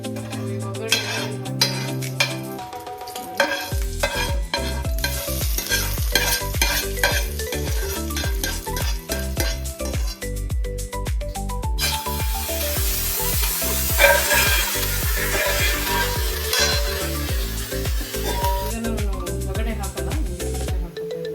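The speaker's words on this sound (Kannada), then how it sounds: "ಇವಾಗ ತೆಂಗಿನೆಣ್ಣೆ ಹಾಕ್ತಾ ಇದ್ದೀನಿ ಸಾಂಬಾರಿಗೆ ಒಗ್ಗರಣೆ ಹಾಕಲಿಕ್ಕೆ" Tempering for Kerala-style sambar crackles and sizzles loudly in hot coconut oil with dried byadgi chillies, stirred with steady scraping strokes against the pan, the frying growing brighter and denser partway through.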